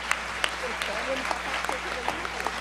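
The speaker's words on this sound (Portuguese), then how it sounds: "Dona Vitória, pediria uma salva de palmas que ela faz aniversário hoje" Scattered, sparse hand claps at an awards ceremony for the Prêmio Justiça para Todos, celebrating Dona Vitória's birthday, a handful of distinct claps spaced out while a voice keeps talking over them.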